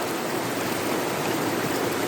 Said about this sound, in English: As you stand underneath this most refreshing waterfall,